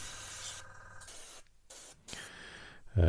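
Short close bursts of airbrush spray hiss painting a scale model truck, starting and stopping a few times with brief silent gaps between them.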